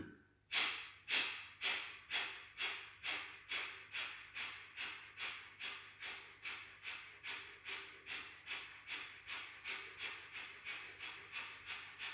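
Kapalbhati yoga breathing: a long run of about thirty forceful nasal exhales, sharp and close, each a short puff decaying quickly, in a steady fast rhythm with no talk.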